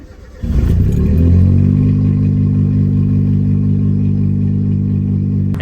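A Suzuki Cappuccino fitted with fresh spark plugs and new plug wires cranks and catches half a second in, then settles into a steady, close, loud idle that holds to the end with no talking.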